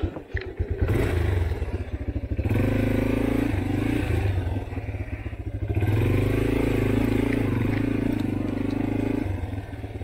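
A motorcycle ridden over rough off-road terrain, its loud engine chugging and revving close up with clattering and scraping.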